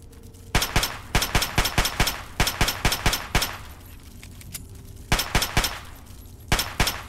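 Enemy gunfire in the video game Fallout 3, rapid bursts of sharp shots in clusters of three to five with short pauses between, moderately loud and fairly near, with no speech over them.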